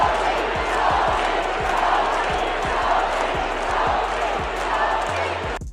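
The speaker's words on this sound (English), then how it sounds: "The Indiana Fever fans were chanting, "Sophie, Sophie."" Indiana Fever basketball crowd in an arena chanting "Sophie, Sophie" in a steady rhythmic roar, with repeated low thumps like a ball bouncing or stomping throughout.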